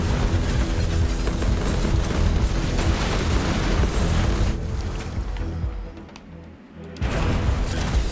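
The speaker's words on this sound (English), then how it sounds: "seeing how much explosions just happened" Explosions in the game Soulstone Survivors roar in a dense, continuous rumble that briefly thins out and then surges back.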